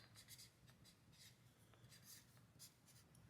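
A pen scratches on paper as a goal is written out by hand, quiet short strokes and scribbles coming in uneven bursts, close and soft.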